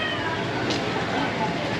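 On a street in Bangkok, a man imitates a cat with a short meow, heard once over steady background street noise and talk.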